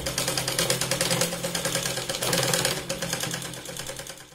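Electric sewing machine stitching blouse fabric in a rapid steady mechanical chatter, close and continuous, briefly speeding up midway, with no talking.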